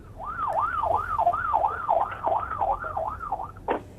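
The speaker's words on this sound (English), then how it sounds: "I can hear the siren, I suppose, of the fire tenders around" A fire engine siren wails steadily in a fast up-and-down yelp at a fire scene, loud and continuous over low background rumble, cut off by a brief thump at the end.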